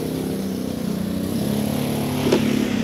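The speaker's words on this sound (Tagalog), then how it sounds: "pasensya na kayo sa background noise, nasa tabing kalsada tayo" Roadside traffic beside a street: a steady, fairly loud rumble of passing motorcycle and car engines that swells slightly near the end, with no voices.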